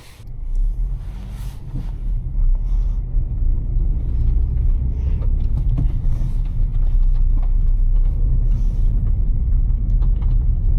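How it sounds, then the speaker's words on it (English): Suzuki Swift Sport engine heard from inside the car while driving, a steady low rumble with road noise that stays fairly constant throughout. "let's just start going for a drive now"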